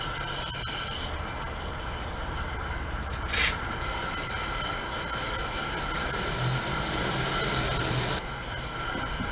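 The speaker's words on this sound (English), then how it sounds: "Sorry about that noise in the background. The fan is going out on my welder" A failing cooling fan on a welder drones steadily and loudly throughout, a continuous rough whir with a brief sharper burst partway through and no voices over it.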